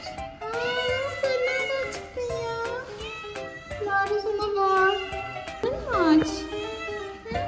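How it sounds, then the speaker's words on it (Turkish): A hungry street cat meows repeatedly in drawn-out, wavering cries, close by and fairly loud, with a few short gaps between calls. "Nereden geliyor bu kedi sesi?"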